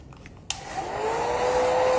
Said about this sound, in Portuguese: Eu uso o secador, porque às vezes ela não seca total